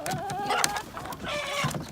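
Chickens clucking on a rainy-day farm, a busy mix of close clucks and short squawks with a brief crow-like call, moderately loud against a rustling background.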